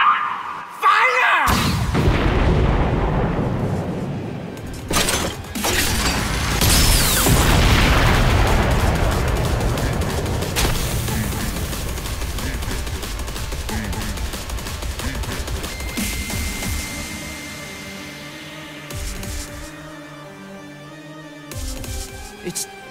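Cannon fire in the action game No More Heroes 3, a sudden loud boom followed by a long rumbling, fading roar with further sharp blasts, then calmer tonal game sound and some voices near the end.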